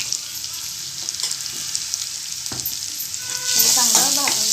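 Turmeric and cumin roasting in a pan: a constant close sizzle with scattered stirring scrapes and clicks, growing louder and busier near the end, no one speaking.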